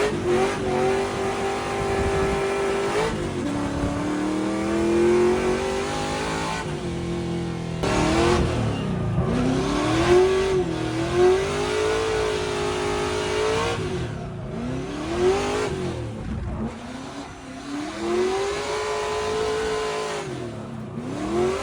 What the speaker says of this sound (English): cut to videos of drifting.